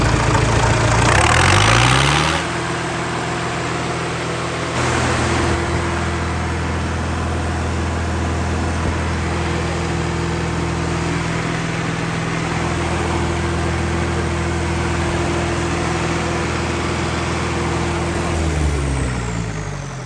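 A Swaraj 855 tractor engine, a heavy diesel, runs close and loud with a steady low throb. It revs up briefly near the start and again around five seconds, and the engine note shifts before it settles back to idle near the end.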